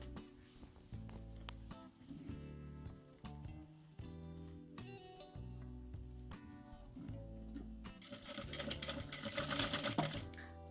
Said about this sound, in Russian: сначала пришиваем к одной детали